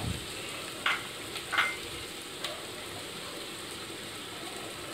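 Grated onion, dry chilies, bay leaf and cloves stirred in a hot pan, a steady faint sizzle with a few soft spoon scrapes and clinks.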